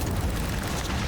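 Incendio fire spell cast in the Hogwarts Legacy video game during a duel, a dense, roaring fiery burst that holds steady and loud for about a second with no pause.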